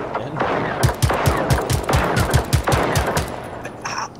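Rapid bursts of gunfire against robots in the Generation Zero video game on Xbox One, a loud string of about a dozen sharp, closely spaced shots with short pauses between volleys.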